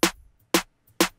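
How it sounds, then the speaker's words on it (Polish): A layered snare drum sample in an FL Studio beat strikes three times in even succession, each hit sharp and punchy with quick decay into silence. "snare numer 2."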